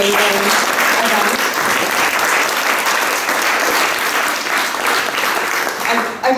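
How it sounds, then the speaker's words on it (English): Steady, loud audience applause at a live community event, dense clapping filling the whole stretch with a slight dip near the end and a few voices mixed in. "I think a round of applause is in order for putting on such an amazing event."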